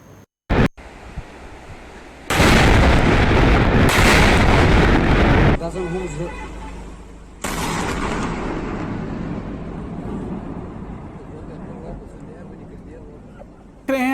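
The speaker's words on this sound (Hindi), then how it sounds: "किस तरह से एक एक कर भारतीय जो तोप हैं वो गरज रही हैं" Indian artillery guns fire shells toward Pakistan-occupied Kashmir: heavy booming blasts, one short crack followed by a long roaring barrage and another sustained blast, loud and rumbling, with echoing rolling noise between the shots.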